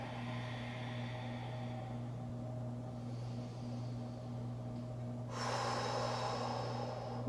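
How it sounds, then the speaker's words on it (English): Slow, deep breathing during a yoga stretch, a soft close inhale followed by a stronger airy exhale, over a steady low background hum. "Deep breathing."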